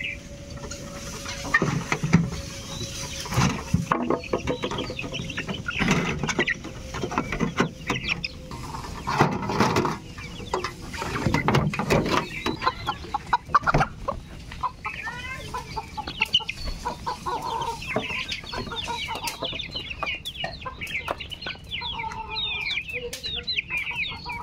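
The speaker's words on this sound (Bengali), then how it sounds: "তো আমাদের মুরগির খোপ" Chickens in a backyard coop at a riverside village home cluck and call steadily over about twenty-four seconds, with scattered mechanical rattles and clatter mixed in and no talking.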